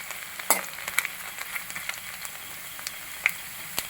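Finely chopped garlic sizzles in hot oil in a pan for a Kerala-style vegetable stew, a steady close hiss with small crackles and spoon taps.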